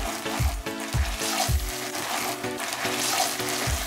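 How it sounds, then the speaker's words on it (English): Onion and pepper seasoning mix frying in a pan while being stirred, giving a steady sizzle with a few soft low knocks of the spoon in a slow rhythm, close and moderately loud with no talking. "Now we are going to stir everything together."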